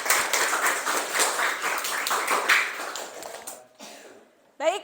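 A classroom group applauds after a student presentation, with a dense patter of claps for about three seconds that then tapers off into quiet, followed by a short burst of sound near the end.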